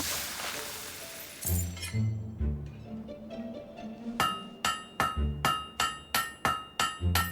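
A blade being hammered in Fable 3, opening with a noisy burst and low tones, then a regular series of bright, ringing metal clangs struck close by.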